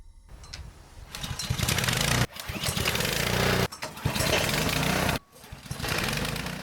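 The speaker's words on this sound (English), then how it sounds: "This log splitter is very simple in construction, but well designed." Small engine on a simple firewood log splitter runs loudly nearby, its steady drone repeatedly dipping briefly and recovering in roughly regular cycles.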